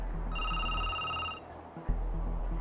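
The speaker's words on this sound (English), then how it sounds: "a phone call." A telephone rings once with a bright electronic trilling tone lasting about a second, loud over a low background hum, followed by a brief click.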